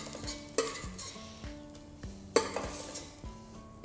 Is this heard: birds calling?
no